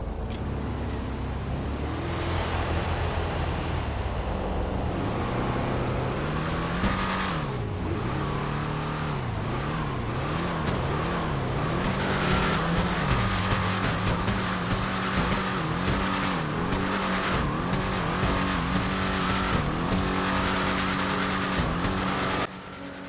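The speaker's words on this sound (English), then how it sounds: "let's go ahead and test that rev and hear how it sounds" Engine of the Vapid Peyote Gasser, a Ford Thunderbird–style drag car in a video game, revving repeatedly with deep rumbling rises and falls, then tire squeal and a loud run of acceleration, no speech.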